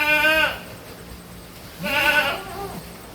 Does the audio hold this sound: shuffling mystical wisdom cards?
no